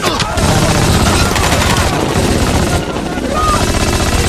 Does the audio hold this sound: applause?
no